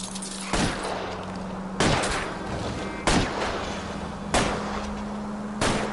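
Five loud, sharp gunshots ring out at even intervals of about one and a quarter seconds in L.A. Noire, each a broadband crack over a steady engine hum from a car chase.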